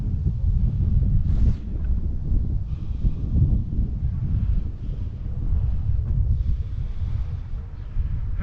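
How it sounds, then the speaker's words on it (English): A steady wind of about 12 miles an hour rumbles and buffets outdoors in a historic district in Barrington, Illinois, a continuous low roar with gusty swells that never lets up. "I could feel that wind, that 12-mile-an-hour wind"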